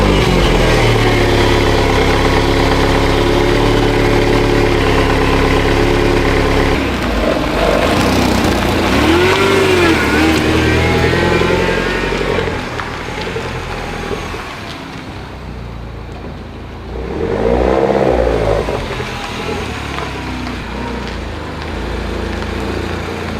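A Mini's engine runs steadily while the car is moved, with a loud, continuous idle that swells and dips slightly as the revs shift, close by and with no voices.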